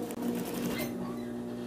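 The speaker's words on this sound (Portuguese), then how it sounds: "É só bater a costura onde era antes." A sewing machine stitches a simple seam repair, its steady close mechanical whir running through the clip, with a faint voice partly over it.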